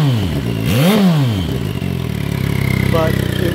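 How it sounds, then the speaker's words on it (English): Engine fitted with an electric scavenge pump runs steadily with a mechanical clatter, a rising-and-falling whine sweeping through in the first second, and a continuous hum from the pump area close by. "I do get a little bit of a different sound from the pump area."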